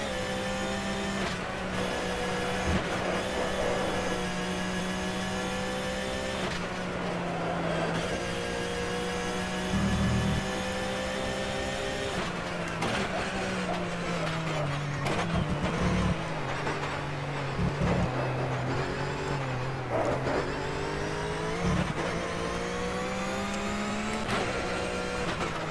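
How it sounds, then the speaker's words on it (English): A Flat6 endurance race car is driven in the rFactor racing simulator at Bathurst, its engine note loud and continuous with abrupt pitch drops and blips as it downshifts into corners. "Oh man, the downshifts."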